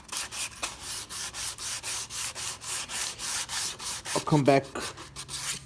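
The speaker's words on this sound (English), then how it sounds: "Take away all that paint that's falling off." Sandpaper rubbing flaking paint off a Chrysler center console, a close, steady rhythm of rasping back-and-forth strokes throughout, with a brief spoken phrase near the end over the sanding.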